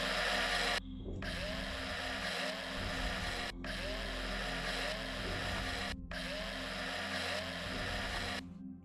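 Harsh whining drill grinding into an aluminium deposit in the video game Breathedge, steady loud buzzing in three long bursts separated by brief silent breaks, no voices.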